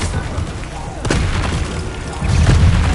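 Expelliarmus spell cast during combat in Hogwarts Legacy on PS5, a sharp crackling burst around the one-second mark rising over a steady low rumble of battle, with a second surge of booming impacts near the end.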